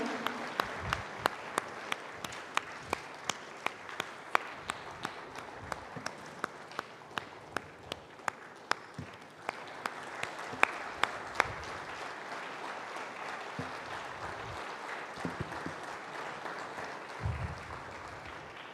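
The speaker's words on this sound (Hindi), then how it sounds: "दोस्तों तालियां बजती रहनी चाहिए, तालियों की गड़गड़ाहट में कमी नहीं होनी चाहिए।" Applause from a conference audience at the Amar Ujala Samvad 2025 event, with sharp, regular claps standing out over a steadier wash of clapping that carries on at a moderate level.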